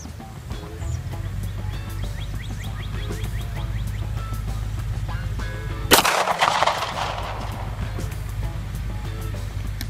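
A rifle fires at a target 500 meters away: a single sharp, loud crack with a brief rolling echo tail over steady outdoor background noise.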